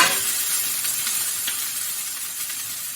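Thinly cut cabbage stewing in a pot while being stirred, giving a steady hissing sizzle with soft scraping strokes and no talking.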